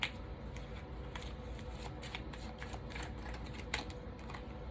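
Tarot cards are shuffled by hand, a faint, quick run of papery riffles and snaps in irregular bursts, close up against a quiet background.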